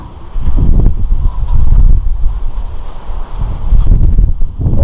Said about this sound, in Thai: ลมแรงมากเลยค่ะ วันนี้